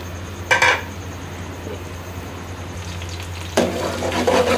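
Chopped onions fry in hot oil in a pot for beef yakhni pulao, giving a steady low sizzle and hum. Two short bursts of metal spoon-on-pot clatter come as the onions are stirred, one early and a longer one near the end.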